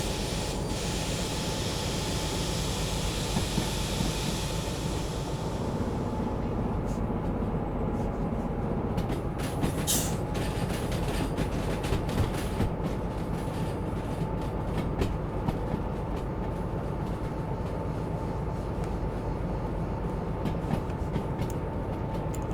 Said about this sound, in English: Okay, the train's pretty much round there now.